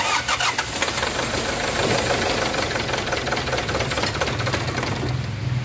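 A Kia Sorento engine with an automatic shut-off fault cranks and runs loud and close, a dense steady mechanical roar with a rapid knocking texture throughout.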